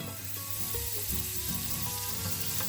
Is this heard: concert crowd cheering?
no